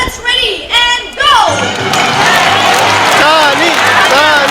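An audience at a bird show in Jurong Bird Park, Singapore, breaks into loud, sustained cheering and shouting that builds and carries on to the end, with clapping mixed into the crowd noise and a voice heard early on.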